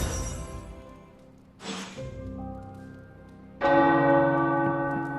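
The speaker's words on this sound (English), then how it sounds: "The tower bells are ringing." Tower bells in the video game Marvel Midnight Suns ring out loud and near, with long resonant tones that decay slowly and a fresh, stronger strike midway, no voices over them.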